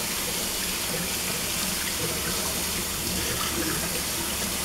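Tap water running steadily into a sink for a Yorkie puppy's first bath, a continuous even rush with no breaks, close and moderately loud.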